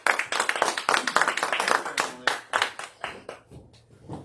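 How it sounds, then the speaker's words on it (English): A small group at a community meeting gives a short round of applause, the irregular claps close and fairly loud before thinning to a few scattered final claps near the end. "let's give Emily a round of applause"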